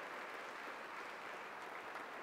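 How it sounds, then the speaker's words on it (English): A church congregation applauds a singer, a steady wash of many hands clapping without pause, fairly faint and even, with no voices over it. "she deserves another round of applause as our way of saying thank you"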